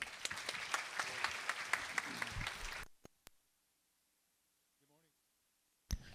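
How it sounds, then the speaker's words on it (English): Applause from an audience at a staff recognition day ceremony, a dense burst of clapping for about three seconds that cuts off abruptly, followed by near silence with a couple of isolated clicks and a faint voice. "Give a round of applause."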